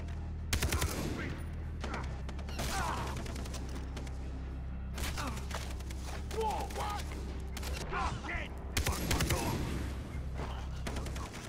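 Bursts of rapid gunfire in Far Cry 3, clustered volleys with quieter gaps between them, fairly faint overall against a steady low rumble.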